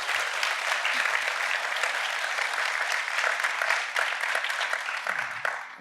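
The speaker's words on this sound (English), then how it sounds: "Give them another round of applause," An audience applauds at a University of Michigan Health Rogel Cancer Center event, with dense, sustained clapping that carries at an even level for several seconds and a few scattered voices mixed in.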